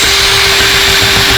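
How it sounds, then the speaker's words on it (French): A loud, constant power-tool whine with a steady tone drives a screw into car bodywork, close and harsh throughout the short burst, with no voices. "On va voir si on arrive à visser ça dans la carrosserie."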